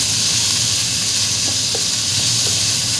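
Chicken and onions fry in a pan with a loud, steady, close hiss and sizzle that holds unbroken throughout.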